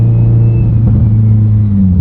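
A Subaru STI engine idles roughly and steadily up close, a deep continuous rumble holding level throughout with no voices.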